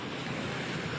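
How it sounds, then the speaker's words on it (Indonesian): High waves crashing against the pier at Galesong beach in Takalar, a continuous loud roar of surf mixed with gusting wind noise, steady with no talking. "terlihat dari hempasan ombak yang menerpa dermaga di Galesong ini."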